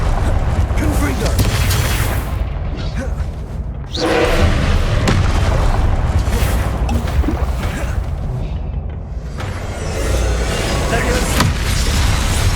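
A Confringo fire spell from the Hogwarts Legacy video game bursts with heavy booming thuds amid dense, loud battle noise, repeated blasts and crackling across the whole stretch.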